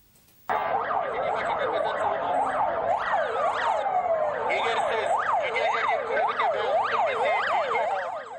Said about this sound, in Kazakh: Бір уақытта қаз-қатар тізілген жедел жәрдем көліктерінің дабылы құлақ жарады.